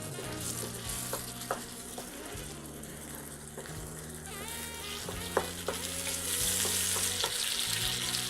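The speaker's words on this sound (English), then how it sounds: "we're going to start pan frying a little egg into that nonsense right there." An egg fries in a pan alongside chicken, giving a close, steady sizzle and crackle that grows slightly louder toward the end, with occasional light utensil taps and no talking.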